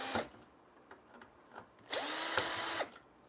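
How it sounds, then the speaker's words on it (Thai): An electric drill used as a Phillips screwdriver whirs in short bursts, a few brief pulses and then one longer, steady run of about a second, close by in a quiet room, while servicing a stadium floodlight. "สว่านไฟฟ้าก็ใช้เป็นไขควง ปากแฉกนะครับ"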